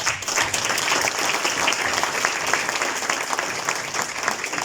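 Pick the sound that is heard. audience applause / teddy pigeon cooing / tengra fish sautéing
audience applause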